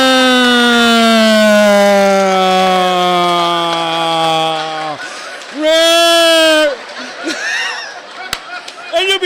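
A man imitates a fire truck siren with his voice, a loud rising and falling wail that dips, pauses, then swells again in a shorter burst before breaking off into laughter-like noises.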